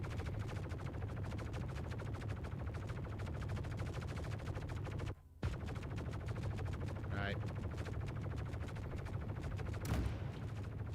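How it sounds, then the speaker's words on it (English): A minigun in the Star Citizen video game fires in a steady, continuous roar, broken by one brief pause, while someone speaks a word over it. "This is a really good machine gun."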